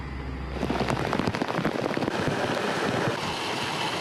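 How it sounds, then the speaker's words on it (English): Heavy monsoon rain lashes down in a storm, a dense continuous hiss of pouring water and spatter that surges in loudly after a brief quieter start and stays thick and close, with no voices. "They had a lot of rain, a lot of wind here"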